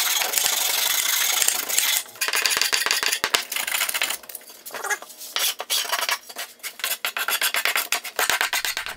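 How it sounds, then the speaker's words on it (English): Hand sanding along the sharp edges of an oak coffee table, a steady raspy rubbing that runs continuously at first, then breaks into short repeated strokes with brief pauses, close and fairly loud. "So I'm starting my sanding by breaking all the sharp edges"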